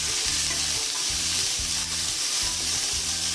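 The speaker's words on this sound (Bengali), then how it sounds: "আর গ্রিন ক্যাপসিকাম গুলো। 2 মিনিটের মতন আমি ফ্রাই হতে দেবো।" Green capsicum stir-fried in a wok over a high flame for egg chow mein, a loud steady sizzle with rhythmic scraping tosses about every half second and no talk.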